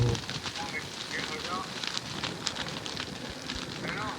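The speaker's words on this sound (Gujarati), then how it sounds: "જો આગ લાગેલી" Steady roaring crackle of a fire burning in gusty wind, dense and continuous throughout, with occasional sharper pops.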